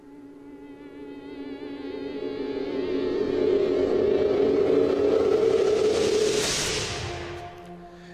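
A cinematic riser-and-hit sound effect built in Cubase swells gradually from a low rumble into a dense, loud tonal wash, peaks with a bright noisy burst, then fades out.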